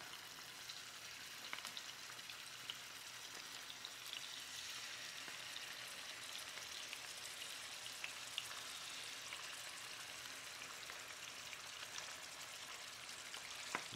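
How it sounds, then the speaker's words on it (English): Strips of crappie fish, unseasoned, fry in a hot pan with a steady, fine, faint crackling sizzle that continues evenly throughout, with no talking. "sizzle away. And we're just going to lay a few of these in here."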